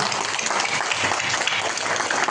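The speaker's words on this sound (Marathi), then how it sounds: "एकदा त्यांच्याकरता टाळ्या वाजवा." Steady applause from an audience at a Marathi kirtan devotional gathering, many hands clapping densely and evenly throughout, fairly loud and with no talk over it.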